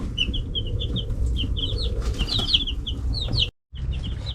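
Week-old Cornish Cross meat chicks peep and cheep continuously in a shed, a busy overlapping chorus of high chirps over low background noise, with a brief cut near the end.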